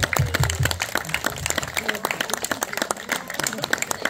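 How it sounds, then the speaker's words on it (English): Audience applause at a fire-themed tribute event, a scattered, crackling patter of many hands, moderately loud and continuous, with a low rumble of movement near the start. "could you please give her a big round of applause"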